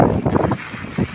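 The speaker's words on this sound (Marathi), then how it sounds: "आता पाऊस पण जबरदस्त आहे, वारा पण सोसाट्याचा आहे" Strong gusty wind in heavy monsoon rain buffets the microphone in uneven rumbling bursts, loud and close, rising and falling over about a second.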